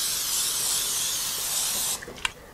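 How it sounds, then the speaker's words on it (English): Cooking spray is sprayed into the bottom and sides of a fudge pan as one continuous close, loud hiss lasting about two seconds, followed by a couple of small clicks and taps. "we're going to take some cooking spray and spray the bottom and the sides"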